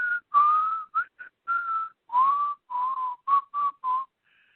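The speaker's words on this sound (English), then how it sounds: "her ringtone is the same as a whistling tune from Twisted Nerve" The whistled tune from Twisted Nerve plays as a ringtone, a clear solo whistle carrying a short melodic phrase of sustained and clipped notes with brief gaps, close and alone.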